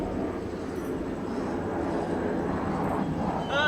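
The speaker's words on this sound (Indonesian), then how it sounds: "Ah, ini mah pesawat." An airplane passes overhead, a steady distant broadband roar that rises slightly toward the end, heard outdoors with no talk over it.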